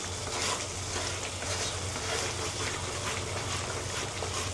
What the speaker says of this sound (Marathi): बेसन पीठ टाकल्यामुळं खाली कढईला लागलं जातं, त्यामुळे चमच्याने हे कंटिन्यू मिक्स करत जायचं